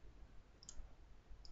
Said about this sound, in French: Je clique ici et je viens le positionner correctement.